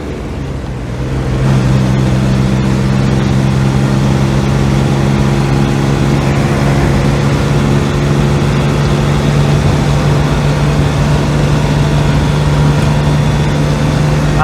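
A diesel-swapped Geo Tracker engine runs at full throttle in fifth gear, a loud, steady low droning hum with a constant deep tone that holds evenly throughout, heard from inside the vehicle with no talking.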